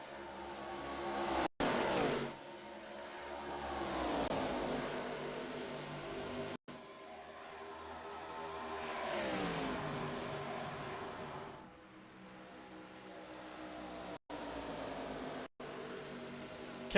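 Race cars roar around the oval at Charlotte Motor Speedway during a Sunday Night Thunder event, engines surging and fading as they accelerate past, a sustained loud drone with rising and falling sweeps and brief dropouts.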